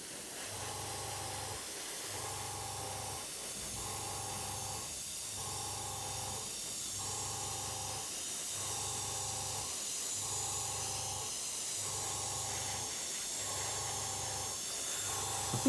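Humbrol acrylic paint is sprayed from an airbrush onto a model cockpit tub in short, regular bursts, about ten soft hissing sprays with brief pauses between them, close and fairly quiet, no talking.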